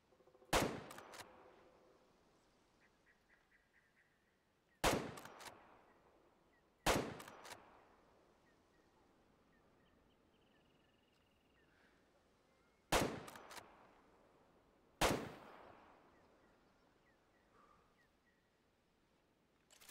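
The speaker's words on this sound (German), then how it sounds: "Du musst dein Gewehr anschießen" Five sharp rifle shots crack out while a scoped hunting rifle is sighted in within the hunting game Way of the Hunter, each loud report ringing off into a fading tail, spaced unevenly with quiet gaps between.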